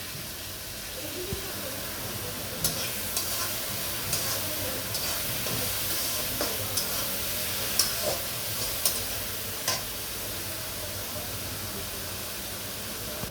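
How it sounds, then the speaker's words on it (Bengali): Onions frying with salt in a pan while fish curry with tomato, potato and cauliflower is being prepared, heard as a soft, continuous hiss with faint scattered clicks and stirring taps. "পেঁয়াজটি ভেজে আসি।"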